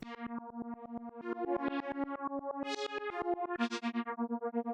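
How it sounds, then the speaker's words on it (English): A synth pad chopped by a Soundtoys Tremolator tremolo into rapid, pulsing plucky notes, a steady rhythmic stutter running through a shifting chord pattern, loud and alone with no voices. "So this kind of pad almost sounds like a really plucky lead, and this kind of Tremolator helps to bring that out."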